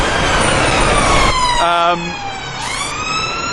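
An ambulance siren wails loudly nearby during an Extinction Rebellion protest in gridlocked traffic, its tone sweeping and then dropping in pitch as it moves past, over steady traffic noise.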